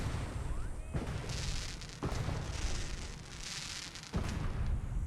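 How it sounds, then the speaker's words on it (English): Fireworks burst over Nuka World in the game Fallout 4, three sharp booms spaced a second or two apart over a steady rumbling, crackling wash of distant explosions, with no talk. "What an amazing display of fireworks."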